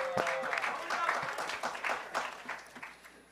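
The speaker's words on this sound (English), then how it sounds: "Yeah, clap, we have internet again." Hacker conference attendees clap after the Wi-Fi comes back, with scattered applause of fairly quiet, uneven hand claps from a crowd that thins out and fades toward the end.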